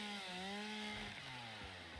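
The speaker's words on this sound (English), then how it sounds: "Now my chainsaw is good to go" A chainsaw in the video game Satisfactory cuts through foliage, a steady buzzing engine whine with shifting pitch that holds loud and continuous from start to finish, with no talk over it.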